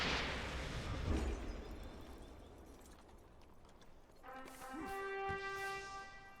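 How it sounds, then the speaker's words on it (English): Fireworks in The Lord of the Rings Online's 15th anniversary celebration: a muffled rumbling boom at the start, then crackling bursts and whistling, ringing tonal effects as the display goes off in the distance. "With the fireworks finally secure, the fireworks celebration can begin."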